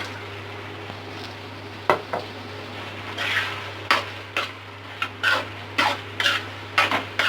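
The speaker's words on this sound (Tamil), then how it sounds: "இப்போது ஃபுல் ஃப்ளேமில் வச்சு 3 to 4 minutes அப்படியே நல்லா கிண்டிட்டு" Gobi manchurian is stirred in a pan over full flame, with a spatula scraping and clacking against the metal in irregular strokes. The strokes grow more frequent toward the end, over a faint background sizzle and a steady low hum.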